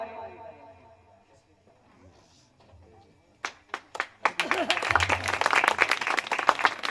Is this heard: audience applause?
yes